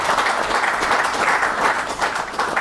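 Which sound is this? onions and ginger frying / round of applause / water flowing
round of applause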